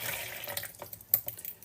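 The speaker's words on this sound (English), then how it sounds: "So I'm gonna pour this yeast mixture" Yeast mixture poured from one bowl into a bigger bowl in a home kitchen, heard as a brief, quiet run of liquid splashes and trickles with a couple of soft splats.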